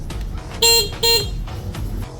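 Two short, loud honks from an electric golf cart horn, a brief pause between them, over a low background rumble.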